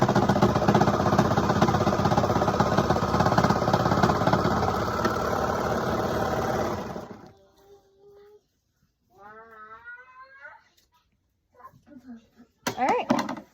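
A sewing machine stitching the sides of romper pants runs with a loud, steady whirring buzz for about seven seconds, then stops abruptly, followed by a voice talking.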